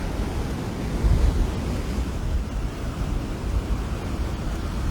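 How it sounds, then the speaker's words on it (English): Rough, powerful ocean surf at Cattlewash on a strong morning, a continuous deep roar of breaking waves and sea spray mixed with wind buffeting the microphone, loud and close with no voices. "Rough, powerful ocean. Sea spray, strong, real strong this morning."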